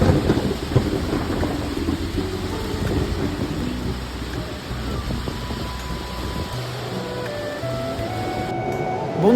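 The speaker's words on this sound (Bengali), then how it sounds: "আর হঠাৎ বৃষ্টি শুরু হয়ে যায়" Sudden heavy rain on a night-time thunderstorm pours in a dense, loud wash, with deep rumbling thunder rolling underneath throughout.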